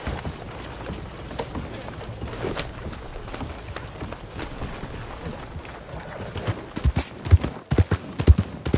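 A horse ridden in Red Dead Redemption 2 gives off quiet, steady clip-clop hoofbeats that grow louder and sharper toward the end, alongside faint game ambience and no talk.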